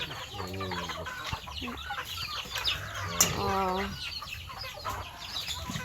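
Farm chickens in a provincial yard cluck repeatedly in short rhythmic bursts, with a rooster-like call rising midway, fairly close and steady throughout; a voice briefly exclaims once.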